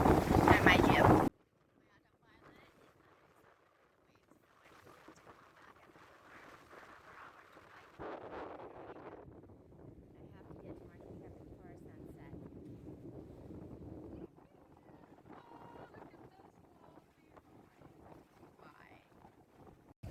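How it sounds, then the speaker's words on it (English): A sailboat at sea under full mainsail and jib, heard as a faint, low wash of wind and water against the hull after a brief loud gust of wind noise at the start. "Now I am sailing with full main and my jib."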